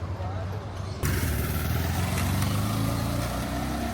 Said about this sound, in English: Just a motorcycle pulled up next to me, 2 people on it.